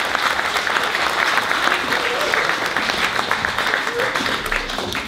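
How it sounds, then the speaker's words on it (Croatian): Sustained applause from an audience at a Bosnian Independence Day gathering in Oslo, dense steady clapping filling the whole stretch with faint crowd murmur beneath. "Molim vas, aplauz za naše izbore."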